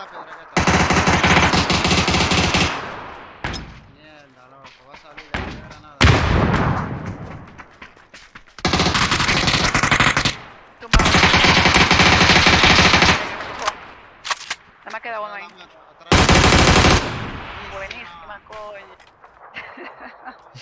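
Kar98 bolt-action rifle shots in PUBG: Battlegrounds ring out as loud, sharp reports with long echoing tails, spaced several seconds apart, while players talk excitedly in between.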